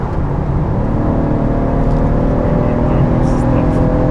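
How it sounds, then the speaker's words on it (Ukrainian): Cabin noise inside a BMW F30 sedan at high motorway speed, a loud, constant low rumble of road and wind noise with a steady engine drone and no talking. "Я б не сказав, що дуже шумно в машині."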